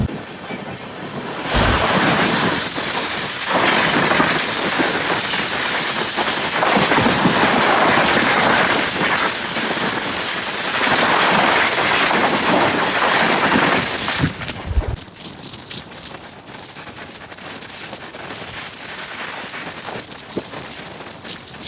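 A long-distance Haridwar to Mumbai express train runs on the rails near Palghar toward Virar, heard from inside a 3rd AC coach. A loud continuous rumble with clickety-clack carries for about fifteen seconds, then settles into a quieter roll.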